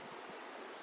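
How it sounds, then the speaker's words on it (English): Water spilling from the overflow of Cullaby Lake on the Oregon coast into a river, a steady broadband rush heard faintly and evenly for under a second. "Water is coming out here from the lake."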